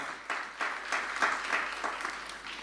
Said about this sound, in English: Let's give you a round of applause as well.